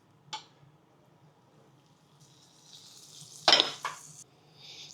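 Butter and olive oil in a frying pan give a faint, rising sizzle, with a couple of sharp utensil clinks against the pan partway through, close and quiet.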